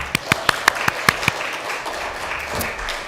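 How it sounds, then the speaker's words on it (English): A Christmas Day church congregation gives a short burst of scattered handclaps, about eight sharp claps close together, before they thin out into quiet room noise. "give them a round of applause right now"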